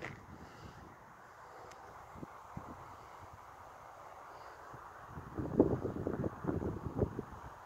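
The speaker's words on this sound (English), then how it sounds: "Wow, this looks getting more windy now." Wind blows in a steady, moderate rush outdoors, with gusts growing stronger and louder toward the end.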